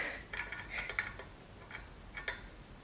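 Nylock nut being fitted onto a VW Golf coilover with a homemade tool, producing quiet irregular metallic clicks and ratcheting scrapes close up, with no talking.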